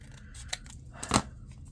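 Scissors snip through a book page, a brief light cut and then a louder, longer crisp slice, close by in a quiet room.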